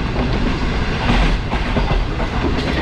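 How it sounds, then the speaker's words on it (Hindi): Green Line Express passenger train rolling toward Karachi, heard from inside the carriage as a loud, steady rumble with rhythmic clickety-clack of wheels over rail joints, close and continuous with no talking. "ट्रेन काफ़ी देर से कराची के हदूद में दाखिल हो गई थी"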